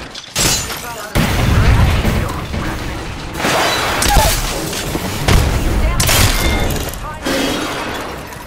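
Gunfire in the Apex Legends battle royale game, loud bursts and impacts stacking up in a dense, continuous barrage across the whole stretch, with a few sharper cracks standing out.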